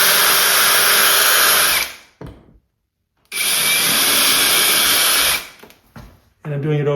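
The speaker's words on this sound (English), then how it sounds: "I'm ready to drill into the wall to install my hollow wall anchors." A power drill bores a pilot hole into a wall for hollow wall anchors, running in two loud sustained whines separated by a short pause, with a brief voice heard at the end.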